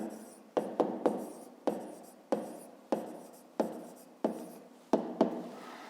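Pen or chalk strokes scratch out a handwritten math equation for a fifth-grade exercise, about ten sharp taps and scrapes in an uneven rhythm, close and clear against a quiet room.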